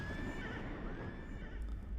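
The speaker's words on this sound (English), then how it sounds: "I'm already riding a horse that's got fire in its hooves and eyes and nose for some reason." A warlock's fiery horse mount neighs with a rising whinny in World of Warcraft: The Burning Crusade, set over a steady rumble of game sound and hoofbeats.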